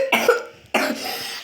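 Two separate coughs, each a short harsh burst that tails off into breathy rasp, close and fairly loud with a brief gap between them.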